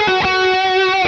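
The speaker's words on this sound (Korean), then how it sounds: "다음으로 코러스를 걸어 보겠습니다." An electric guitar played through a BOSS Katana:Go headphone amp with a chorus effect and a Tube Screamer drive, a single sustained, shimmering held note, loud and close, alone without talking.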